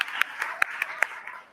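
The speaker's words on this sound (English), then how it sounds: "Give them a round of applause." A few scattered hand claps from a small audience at a Columbus fashion event, spaced irregularly and fairly close, with a faint background hum and no one talking.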